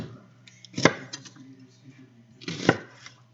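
Two sharp knife chops on an onion against a cutting board, about two seconds apart, close and distinct over a faint kitchen hum.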